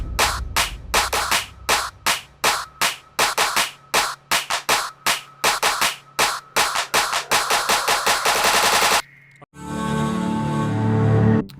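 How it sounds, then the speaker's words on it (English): Snare hits repeat in a quickening roll that builds into a weird, distorted riser, finishing in a dense, noisy sustained swell, loud throughout with no talking. "I want the riser to sound like kind of weird and distorted."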